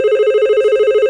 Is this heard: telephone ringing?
yes